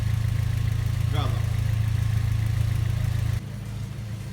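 A car engine idles steadily during an air conditioner refill, a close low droning hum with a brief rising whine partway through, then the level drops near the end.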